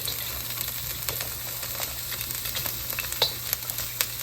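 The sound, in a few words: stir-frying onion in a wok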